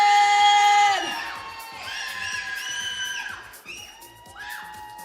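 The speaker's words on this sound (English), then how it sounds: "Let's make some noise for Miss Point 14!" Pageant audience cheering, whooping and shouting, with high excited screams rising and falling in bursts over a few seconds at moderate volume.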